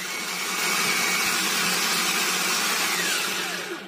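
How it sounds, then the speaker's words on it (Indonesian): An electric kitchen blender grinds ginger with spices into a paste, a loud, close, continuous motor whir holding steady for several seconds before easing off at the end, with no voices. "Kemudian kita blender sampai halus."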